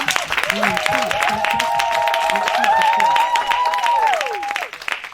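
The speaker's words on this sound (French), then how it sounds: "Est-ce que vous pouvez les applaudir très très fort?" A church audience at a children's Christmas show claps loudly and continuously, the applause mixed with a voice and a sustained tone that fades out near the end.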